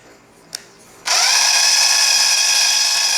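A Ryobi Kyocera BID 10XR impact driver spins up in its low mode after a faint click, then holds a loud, steady high-pitched motor whine close by with no talking.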